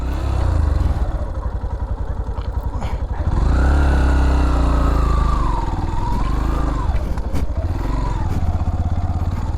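A motorcycle engine labors and revs continuously while climbing a steep, rough hill near Bannerghatta, loud and close throughout with rising and falling pitch as the throttle changes, plus occasional clatter from the loose ground.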